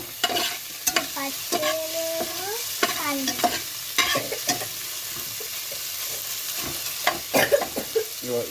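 Maggi noodles stir-fried with curry leaves and spring onion, a steady close sizzle under repeated scraping and stirring strokes, with brief squeaky spatula scrapes, no talk.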